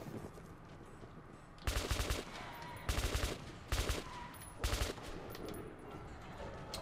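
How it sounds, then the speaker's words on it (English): Gunfire aimed at shadowy monsters in Metro 2033 Redux: four loud bursts of rapid automatic fire, each about half a second, separated by quieter ambient stretches. "We're going to be using this gun to kill these shadowy monsters."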